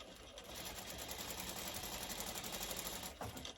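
A sewing machine stitches diagonally corner to corner across 2.5-inch quilt squares for a kitty cat block, a fast steady mechanical whir with rapid needle clatter held close for several seconds before it slows and stops near the end.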